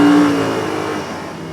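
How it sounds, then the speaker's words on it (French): A car engine of over 100 horsepower pulls hard under acceleration, a loud, close, steady rising drone with no voices over it. "Ah, le moteur, je peux vous dire qu'il y a plus de 100 chevaux, hein, parce que ça accélère quand même pas mal."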